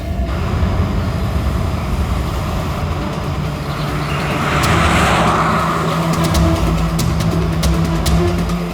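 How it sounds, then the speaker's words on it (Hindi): A car engine idles and runs in a steady, loud drone with road-like background noise, swelling slightly midway and holding without any voices. "सर ये स्नेहल की गाड़ी है सर"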